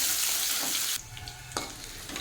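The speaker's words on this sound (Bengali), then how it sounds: "রসুন পেঁয়াজকে একটু ভালো মতো ভেজে নেব।" Chopped onion and hand-pounded garlic sizzle in hot oil, loud and busy at first, then dropping suddenly to a quieter crackle with a brief burst near the end.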